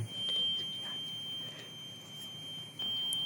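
Buzzer on an IoT automatic stove monitoring device, a continuous high thin tone sounding steadily at low level under faint background noise, no voices.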